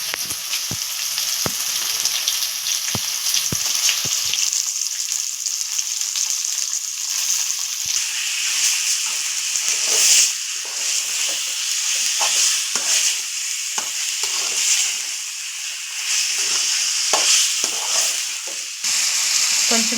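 Half a kilo of chicken sizzles steadily in a hot pan with bean seeds, a constant close frying hiss broken by scattered clicks and scrapes of stirring, with no talking.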